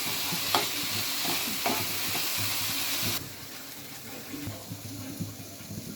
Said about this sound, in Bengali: এবার সবজিগুলো মোটামুটি একটু ভালো করে ভেজে